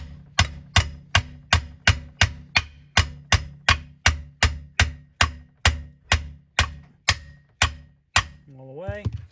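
Steady series of about seventeen sharp metallic hammer taps driving a PTO shaft into place on a John Deere 400 tractor, evenly spaced and close, ending with a brief squeak.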